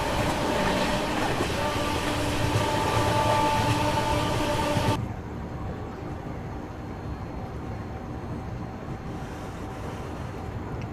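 An Indian Railways train runs toward Varanasi, having passed Sarnath on the Gorakhpur route. It gives a steady, loud rumble that drops to a quieter continuous roll partway through, with no talk.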